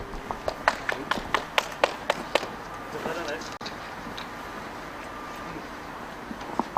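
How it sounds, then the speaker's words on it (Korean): A few people clap sharply and sparsely at an outdoor press conference held in support of a general strike, then quiet background noise with a few scattered taps. "박수로 모셔주십시오."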